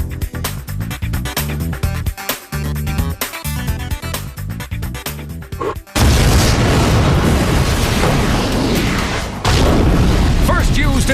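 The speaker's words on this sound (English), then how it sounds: "Cautiously, our hero plants the Torpex explosive." A caravan blown apart by Torpex explosive, a sudden huge boom about halfway through that turns into a long roaring, crackling blast, preceded by a stretch of rhythmic music.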